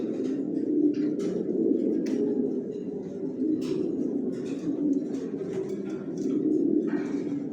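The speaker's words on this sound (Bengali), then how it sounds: "এই কারণে একই লাইনের কবুতর পালতেছি" Johnson-line racing pigeons coo together in a rooftop breeding loft, a continuous layered murmur of low throaty calls from several nearby birds, rising and falling in overlapping waves with scattered faint chirps.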